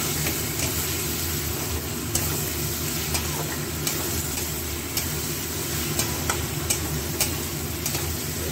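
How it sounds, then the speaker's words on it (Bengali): Garlic, ginger, chilli paste and tomato masala being stir-fried in a pan, a continuous close sizzle broken by regular clicks and scrapes of a spoon against the metal, with no one talking. "এবার সব একসঙ্গে কষিয়ে নেবো"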